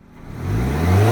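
A modified turbocharged European car with a full aftermarket valved exhaust from the downpipe back revs up, its engine note climbing steadily and growing louder over about a second; no distinct blow-off hiss stands out.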